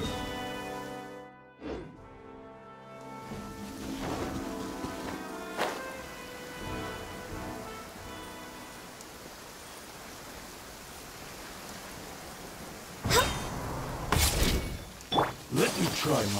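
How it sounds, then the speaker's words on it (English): Southwest monsoon (habagat) rain falls steadily in a courtyard with a soft, even hiss, interrupted by a few sharp knocks and clatters near the start and toward the end. "I love listening to the rain from the courtyard."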